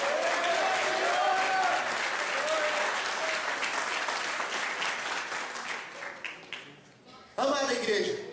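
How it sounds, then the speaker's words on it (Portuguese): A church congregation applauds steadily and fairly loudly for several seconds, the clapping thinning briefly before a fresh burst at the end, with a preacher's voice speaking over it. "Sente aplaudindo ao Senhor Jesus"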